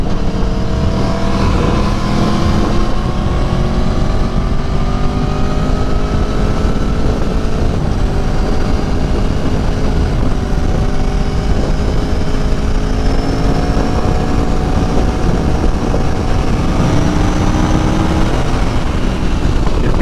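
A 2018 Aprilia Tuono motorcycle engine drones steadily through a test ride, its harmonic whine rising and falling with throttle changes amid continuous wind roar.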